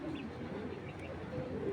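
Giribaz pigeons with black wings and purple feet coo softly amid a steady, noisy loft background, low murmuring calls blending together throughout.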